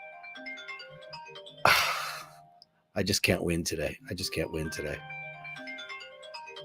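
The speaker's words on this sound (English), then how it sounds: "My phone is ringing, which is the camera for my show." A phone ringtone plays a repeating melodic pattern, interrupted by a loud burst and someone speaking over it before the tune continues.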